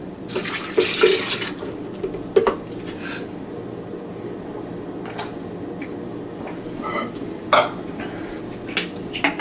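A drink mixture pours from a container into a blender, giving a splashing, faucet-like stream that runs steadily and is broken by a few brief clatters and bursts. No one speaks.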